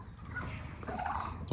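Birds calling in a farm barn, a brief burst of gobbling, turkey-like fowl calls that rise and overlap against a low, steady barn ambience, with no talking.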